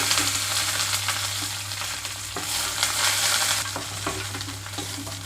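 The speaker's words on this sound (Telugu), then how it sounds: "ముందుగా పచ్చిమిరపకాయలు వేయించుకుంటున్నాను ఇక్కడ ఆయిల్ కొద్దిగా హీట్ అయిందండి" Green chillies fry in hot oil, giving a steady broadband sizzle with stirring scrapes running through it and a constant low hum underneath; no one speaks.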